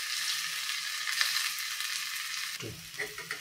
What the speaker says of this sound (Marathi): आता हे पलटवून घेऊयात आपण. हलगर्जीने पलटवून घ्यायचं आणि दुसरी साईड सुद्धा छानपैकी खरपूस शेकून घेऊयात